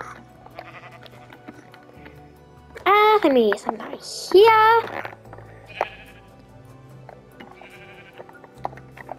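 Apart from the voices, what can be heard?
sheep bleating in the video game Minecraft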